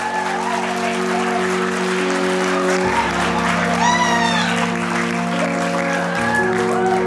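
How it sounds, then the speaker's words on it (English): Wedding guests at a traditional Vietnamese wedding give the groom a big round of applause, with sustained clapping, a few whoops and shouts, and music playing underneath. "A big round of applause for him."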